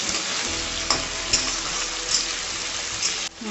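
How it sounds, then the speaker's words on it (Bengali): Loud, dense sizzling of tomato frying in hot oil in a pan, continuous with a few brief crackles. "টমাটারটাকে আমি ভেজে নেব ফটাফট"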